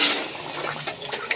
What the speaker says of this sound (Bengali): জল দিয়ে দেবো পরিমাণ মতন,